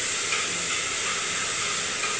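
Onions dropped into hot oil in a home kitchen pan, along with garlic cloves, giving a steady, loud, close hiss of sizzling that holds even and unbroken throughout with no talking.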